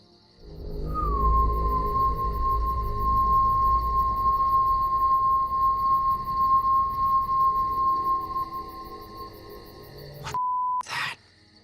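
A long, steady whistling tone sustained for about ten seconds over low rumbling in a dark forest at night, ending with a couple of abrupt brief bursts.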